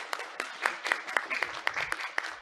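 Sparse audience clapping at a short-play event, a thin scattering of separate hand claps over a couple of seconds.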